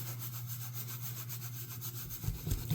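Flitz polish rubbed by hand onto the plastic handle of a Victorinox waiter's knife, a steady close scrubbing friction over a constant low mechanical hum, with a few firmer strokes toward the end and no talking.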